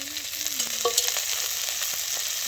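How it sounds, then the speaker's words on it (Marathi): Oil poured into a pan over roasted chillies, giving a steady crackling sizzle with light scraping, close and continuous. "आता त्याच्यामध्ये तेल टाकून घेते."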